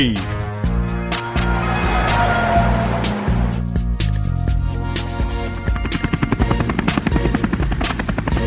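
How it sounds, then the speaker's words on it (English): A police helicopter thunders close by, a loud rushing engine roar whose rotor chop grows into rapid, even thumping toward the end. "This is a police helicopter."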